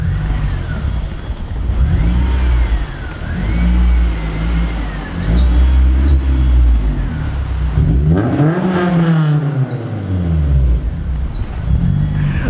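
A Honda S2000 sports car pulls away with a loud aftermarket exhaust, engine revving and rising in pitch as it accelerates nearby, then fading slightly before another rev toward the end.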